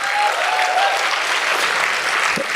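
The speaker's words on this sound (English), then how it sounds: "can you give a huge round of applause to the hospitality team?" A crowd applauds steadily, a dense wash of clapping that holds at full strength throughout with no voices above it.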